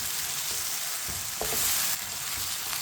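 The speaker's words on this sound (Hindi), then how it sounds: "टमाटर और सब्ज मिर्च को मिक्स कर लेंगे।" Finely chopped tomatoes and green chilies are stirred together in a frying pan for aloo baingan sabzi, a steady soft sizzle with a few scraping stir strokes, fairly quiet and with no talk.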